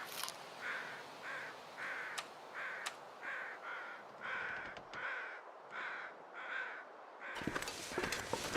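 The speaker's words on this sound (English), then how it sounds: "I don't want to hear those birds in my ears every time I walk outside." Crows caw repeatedly in the survival game The Long Dark, a steady series of harsh, evenly spaced calls over wind-like ambience, ending with a burst of louder rustling noise.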